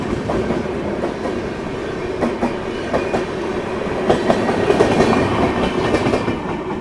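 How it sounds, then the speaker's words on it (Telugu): The Duronto Express from Hazrat Nizamuddin to Secunderabad runs by close on the rails near Bibinagar station, giving a loud, steady rumble with continuous wheel clatter throughout. "హజరత్ నిజాముద్దీన్ నుంచి సికింద్రాబాద్ వెళ్ళే డొరంటో ఎక్స్ప్రెస్ అయితే జింగ్ అయ్యాడు"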